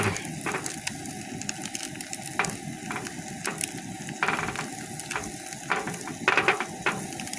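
A water-glassed egg, a year and a half old, is scrambled in a pan: a quiet sizzle runs under repeated close clicks and scrapes of the utensil against the pan, irregularly spaced.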